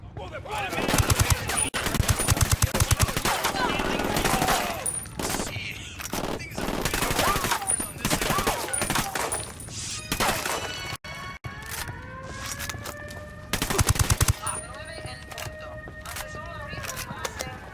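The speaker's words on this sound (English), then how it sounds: "Taking fire from the parking area." Heavy gunfire in the tactical shooter Ghost Recon Wildlands: repeated loud bursts of automatic fire and crashing impacts, mixed with voices talking, easing into quieter gaps before another close volley.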